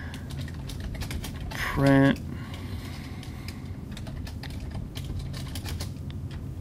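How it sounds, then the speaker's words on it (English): Typing on a computer keyboard during coding work: a quick run of light, irregular key clicks, with a brief spoken word partway through. "I need to work on my typing skills here."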